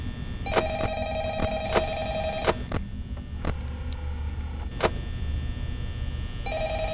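Old-style telephone ringing in the horror game Five Nights at Freddy's, repeated bell-like rings in bursts over a low steady hum, close and fairly loud with no talking.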